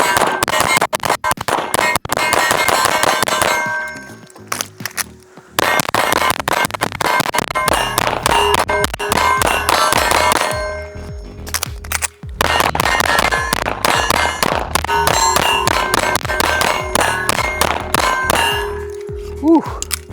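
Rapid shots from a Zermatt Arms Waltz 9 pistol ring out loudly and close, each followed by bright metallic clangs and pings from steel targets, in dense strings with brief pauses between them.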